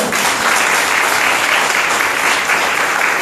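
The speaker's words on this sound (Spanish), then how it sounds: "Give us a round of applause" A seminar audience applauds in a loud, dense, steady wash of clapping that keeps going without a break.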